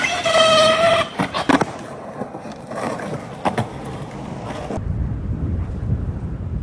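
Gusty wind buffets an outdoor microphone after a skateboard trick, with loud low rumbling bursts early on and a steadier dull roar toward the end, and no clear voices.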